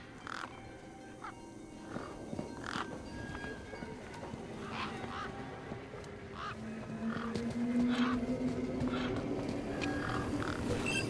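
Birds squawking and honking in the video game Beyond A Steel Sky, repeated harsh calls over a steady ambient background, moderately loud and unaccompanied by talk.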